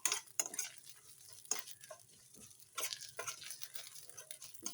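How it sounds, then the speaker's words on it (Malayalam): Sesame seeds roasting in a pan give a faint, dry crackle and patter, with scattered stirring scrapes and light clinks of a utensil against the metal, close and quiet. "തീ കത്തിക്കുക, എള്ള് വറുക്കുക."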